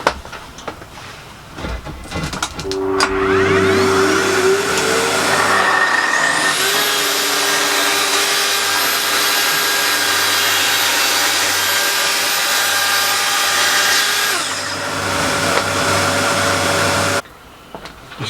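A power tool cuts a rough scrap plywood base plate to size in a small shed, spinning up with a rising whine, holding a loud steady cutting roar for about twelve seconds, then winding down.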